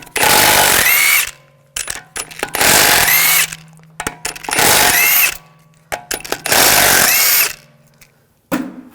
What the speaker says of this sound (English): Using a 17mm socket, we're going to take the lug bolts off.